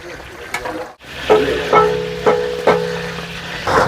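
Onions frying in hot oil until golden for dum rice, a steady close sizzle broken by several sharp scraping stirs and clinks of a spoon against the pan.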